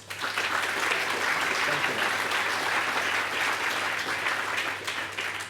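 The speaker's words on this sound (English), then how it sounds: "Please give Neil a round of applause." An audience applauds a guest at a live interview event, sustained dense clapping at moderate level, with a brief spoken word over it.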